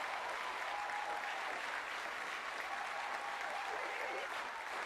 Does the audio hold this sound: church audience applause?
yes